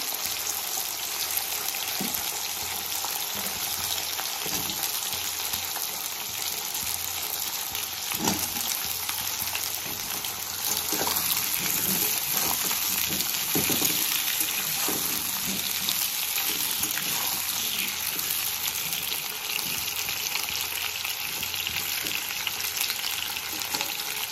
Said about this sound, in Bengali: শিম কটা আমি মিনিট খানে ভেজে নিয়ে এর মধ্যে আমি আলু দিয়ে দিচ্ছি।